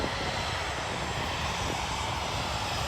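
A Southwest jet moves past at Hobby Airport in Houston, a steady, loud broadband engine roar that fills the whole stretch without letup and carries no voices.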